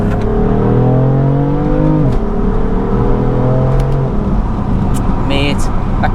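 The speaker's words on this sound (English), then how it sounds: "I'll put the exhaust on Sport Plus." A BMW F82 M4 Competition's 3.0-litre twin-turbo engine revs hard through gear changes in Sport Plus exhaust mode, its pitch climbing and dropping sharply, with a loud continuous roar close by.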